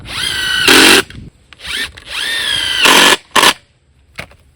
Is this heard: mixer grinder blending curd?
no